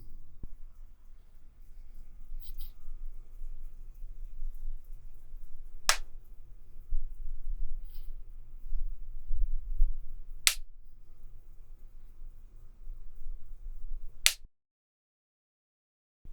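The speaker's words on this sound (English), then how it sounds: "I'm going to do the clap test again." Three sharp, isolated hand claps for an audio latency test, spaced several seconds apart over a low steady hum, with no talking.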